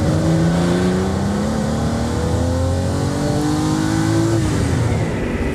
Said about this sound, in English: Fantastic gear change.